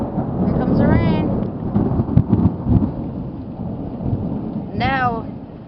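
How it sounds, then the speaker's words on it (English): Thunder rolls through a thunderstorm as rain begins to fall, a dense rumbling wash with hissing rain and a few sharper cracks, while a person's voice rises briefly over it twice. "Here comes the rain."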